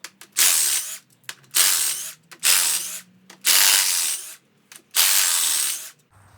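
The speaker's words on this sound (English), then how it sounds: "All right, now we've got the bolts off." A power tool, likely an impact or air wrench, removes bolts from the transmission cover of a 2005–2009 Polaris Ranger 500. It runs in five loud, close bursts of about a second each, separated by brief pauses.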